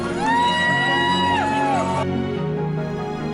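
Crowd cheering and whooping at the finish line of the Ultra-Trail Australia 100km race, a dense, loud wash of voices with rising shouts and whistles that eases off midway but keeps going.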